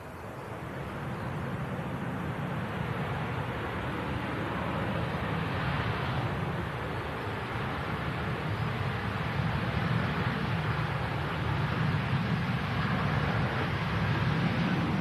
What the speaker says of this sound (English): CF56 engines kicking up a spray there